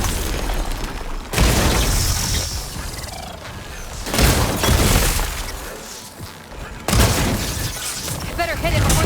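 Plasma explosions burst in Horizon Forbidden West, several heavy booms with shattering crashes hitting at intervals amid a loud battle, as voices talk throughout.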